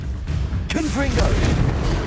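A Confringo fire spell blast in Hogwarts Legacy erupts with a sudden booming burst, followed by a rumbling tail, while a voice speaks over the blast.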